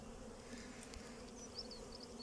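Honey bees hum inside a hive super, a steady close droning buzz with occasional higher passing wingbeats, quiet and without speech.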